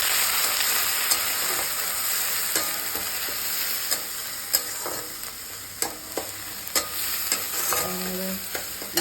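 Onion paste fries in a pan for a raw banana kofta curry, giving a steady close sizzle and hiss. Scraping and clicking stirring strokes come through on top, with no talk.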